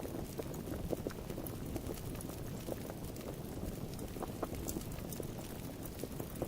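A bubbling stove in a retro first-person video game gives a steady, low burbling simmer with scattered small pops and clicks, continuous and moderately quiet throughout.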